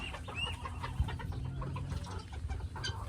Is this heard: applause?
no